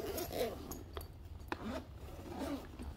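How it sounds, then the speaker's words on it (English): A zipper being pulled open on a kit case for ventilator test equipment, a series of close raspy zipping strokes with brief pauses and small handling clinks. "Can you help me with the zippers on, down here?"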